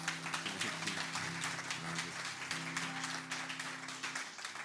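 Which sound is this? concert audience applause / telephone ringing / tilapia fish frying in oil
concert audience applause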